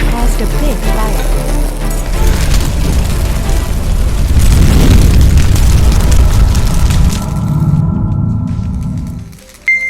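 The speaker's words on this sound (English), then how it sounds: "During the welding process, sparks flew up insulating material, which gradually spread and caused a big fire." A fire in a welding fire VR simulation, where sparks ignite insulating material, builds into a loud, sustained roaring whoosh that swells through the middle and then drops away abruptly near the end.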